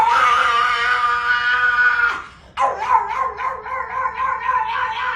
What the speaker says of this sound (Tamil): ஒரு மிருகம் மாதிரி கத்துறா, ஃபயர் இன்ஜின் மாதிரி கத்துறாங்க பாரு.